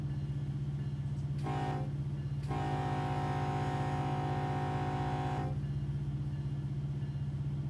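A train in a railroad simulator rumbles steadily with a low engine drone, sounding its horn in a short blast and then a long sustained blast, close and loud throughout.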